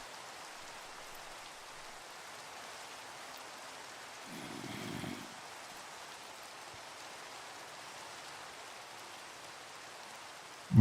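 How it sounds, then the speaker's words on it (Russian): Steady rain hisses in a Minecraft world, a soft, even wash of noise that continues alone for about ten seconds with a brief low thump midway. "О, дождик закончился."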